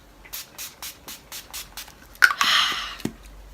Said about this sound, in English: I use the Urban Decay All Nighter setting spray, and I just put a few pumps on my face